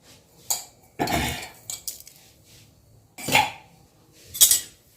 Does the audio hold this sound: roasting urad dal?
yes